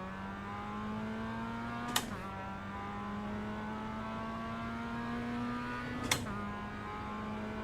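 Mazda MX-5 race car in a racing video game at Virginia International Raceway, a steady engine drone holding pitch throughout with two sharp clicks, no talk.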